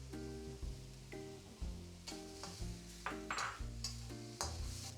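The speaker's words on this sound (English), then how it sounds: "And now sizzle the aromatics." Chopped ginger, garlic and Sichuan pepper sizzle in a wok under a steady hum, with repeated scraping and clanking as the ingredients are stirred; no talking.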